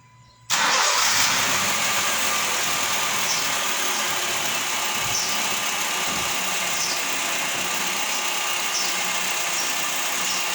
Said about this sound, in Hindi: गाड़ी को स्टार्ट करें आप।